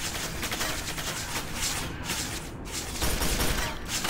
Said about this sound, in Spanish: ¡Que me están disparando!